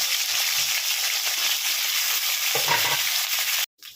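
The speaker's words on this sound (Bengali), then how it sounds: "পটলগুলো আমি ভেজে নিচ্ছি।" Sliced pointed gourd (potol) sizzling in hot oil, a steady bright crackle with a few soft stirring clinks, ending in a brief dropout.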